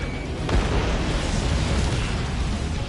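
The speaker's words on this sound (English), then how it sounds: "Missile launched." Missile launch and explosion in the video game Ace Combat 7 during aerial combat, a sharp burst followed by a dense, rumbling blast that sustains loudly through the whole moment.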